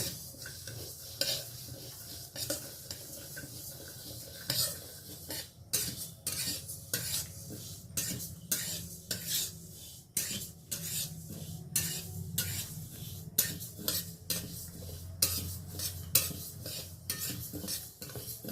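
Moong dal being dry-roasted in a pan, a spoon scraping and stirring in repeated sharp strokes with a faint sizzle underneath, close and without talk.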